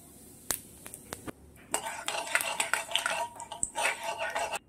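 Dry red chilli and cumin seeds hit hot mustard oil in a kadai, giving a close, busy sizzle and crackle with a few sharp clinks of utensils against the pan at the start.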